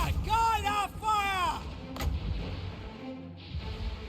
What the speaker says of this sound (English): Good old volley gun steam tanks.